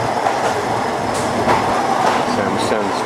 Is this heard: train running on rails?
yes